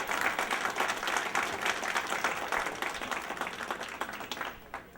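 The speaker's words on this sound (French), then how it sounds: "Applaudissez madame la première ministre." An awards-show audience breaks into applause, dense crowd clapping filling the space loudly and evenly before gradually thinning toward the end, with faint voices beneath it.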